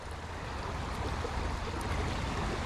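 A river flows in a steady, even rush of water, continuous and moderately close, with no voices over it.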